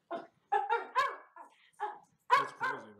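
Dogs barking nearby in a quick run of sharp yaps and higher whining barks, loud and close, spaced in short irregular clusters with brief silences between.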